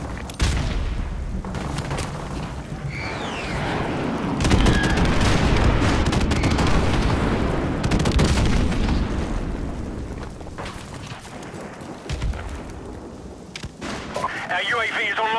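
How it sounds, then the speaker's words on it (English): Airstrike explosions in Modern Warfare Remastered during a Team Deathmatch match on the Downpour map, heavy booming blasts and rumbling impacts layered with gunfire across the whole span, with game voice callouts in places. "Friendly airstrike on the way."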